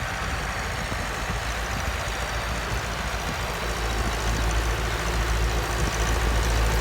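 A Massey Ferguson 375 tractor with a Perkins engine runs in a potato field during planting, a steady low diesel drone that holds continuously, moderately loud and fairly close.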